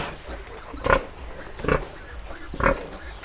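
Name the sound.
large pigs on a farm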